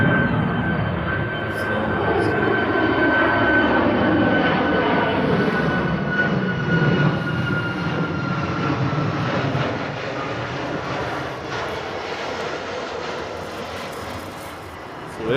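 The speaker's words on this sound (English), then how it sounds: "747 that's taxiing for departure" A Boeing 747 taxis for departure at Honolulu airport, its jet engines a steady, loud roar with a thin whine that holds for the whole stretch and eases slightly toward the end.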